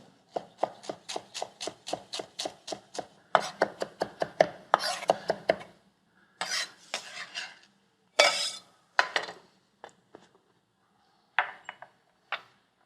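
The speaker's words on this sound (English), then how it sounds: "I'm going to chop up some cilantro to add to our salad." Knife chopping cilantro on a cutting board for a Tunisian salad, rapid steady run of crisp taps, then slower scattered bursts of cuts, close and clear with no talking.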